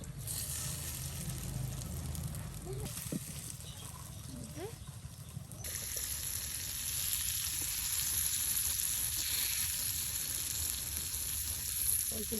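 Drumstick flower fritters sizzle in hot oil in a village kitchen, a steady crackling fry that carries on for about twelve seconds at moderate volume with faint background noise.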